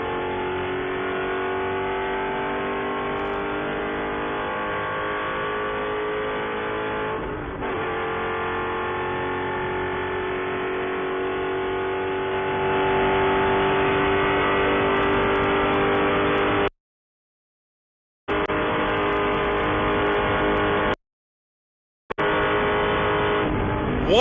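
Spec Corvette race cars at speed down the Daytona International Speedway backstretch: a sustained loud engine roar with rising pitch, swelling as cars pass, cut by two brief gaps of silence.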